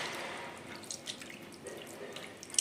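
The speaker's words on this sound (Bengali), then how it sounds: "হাত থেকে এভাবে ধুয়ে নেবেন।" Water running over hands to rinse off spices, a soft close patter of drips and splashes into a sink, steady and faint with a few sharper drops.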